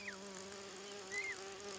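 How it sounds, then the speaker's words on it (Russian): Large cartoon bees or flies buzz in a steady, low drone, with brief higher whining swoops passing by, at a faint level with no speech. "такие здоровые пчелы-мухары"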